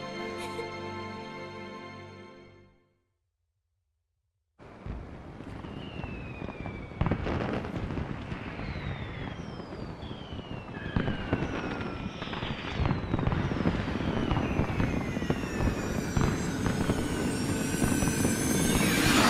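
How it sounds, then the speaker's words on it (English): Fireworks in the Final Fantasy XIII video game: a steady barrage of crackling bursts and whistling rising shells, loud and continuous after a brief opening musical passage and a moment of silence. "Gotta love these fireworks."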